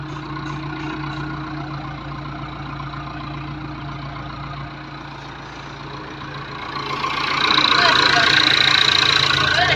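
A tractor engine runs steadily at close range during a driving lesson, a constant low rumble that swells louder near the end as the revs rise, with an instructor talking over it.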